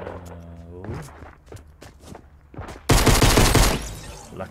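A voice talks over scattered game sounds before a dense burst of rapid gunfire erupts near the end in the Fortnite battle royale game, loud and close.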